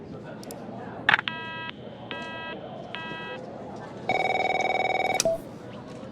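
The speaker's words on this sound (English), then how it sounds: "My phone's ringing off the hook here." Telephone in the video game The Operator rings in several short repeated electronic bursts, then gives a louder sustained buzzing ring near the end, with no voices over it.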